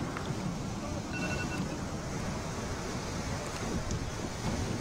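A river in Afghanistan rushes over a dam, giving a dense, continuous roar of churning water, broad and steady throughout, with some wind buffeting on the microphone.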